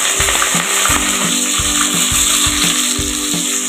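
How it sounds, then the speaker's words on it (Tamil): Sliced onions frying in hot oil for a beef thokku, a loud steady sizzle with rhythmic stirring clanks close by. "எண்ணெய் சூடாயிடுச்சு. இப்போது வெங்காயம் சேர்த்துக்கலாம்."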